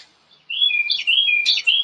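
A tiny bird in a neighboring yard chirping and trilling in a quick, high, clear run of notes, steady and fairly close, after a brief quiet moment, with no one speaking.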